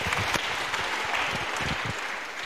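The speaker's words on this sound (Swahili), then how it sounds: "Mpe Yesu makofi ya shangwe." A church congregation claps during a seminar service, a dense, continuous round of applause that stays loud throughout.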